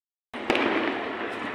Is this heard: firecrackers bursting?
yes